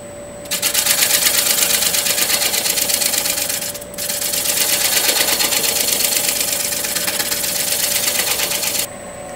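Wood lathe spinning a natural edge bowl at 800 RPM while scraping tools work the wood, a loud steady rhythmic hum and chatter with one brief dip midway, stopping near the end.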